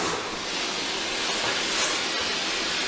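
A wallpaper steamer hisses steadily while wallpaper is stripped, a loud continuous broadband rush of steam with a faint click near the end and no talk.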